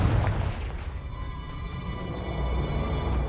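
A Confringo fire spell blasts in Hogwarts Legacy, a single deep boom that hits at once and trails into a rumbling decay.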